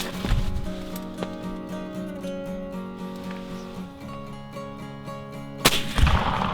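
Gunfire during a hunt in Michigan outdoors country, a sharp loud report near the start and another near the end, with strong broadband thumps over a steady tonal hum in between.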